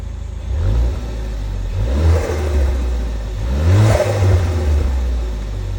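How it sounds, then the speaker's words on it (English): Ford Focus ST engine revved twice in quick succession, each rise swelling the exhaust note before settling back to a low, subtle burble idle, close and fairly loud with no talking. "I'll give it a rev real quick"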